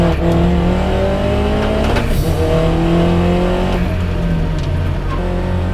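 A MINI race car engine roars steadily at high revs on a circuit, its pitch climbing and dropping through gear changes, loud and close with no talking.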